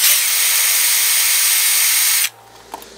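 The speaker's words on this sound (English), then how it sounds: "Take your drill." A handheld power drill whines loudly and steadily for about two seconds, then stops abruptly, followed by a faint click and quiet room tone.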